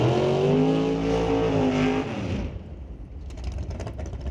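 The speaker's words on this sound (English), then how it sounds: "Solid burnout by Jeremy Soares" A drag racing car, a 2001 Cameron dragster, roars loudly through a burnout with a high, rising engine whine, then cuts off abruptly, leaving a rougher, lower crackling rumble behind at the track.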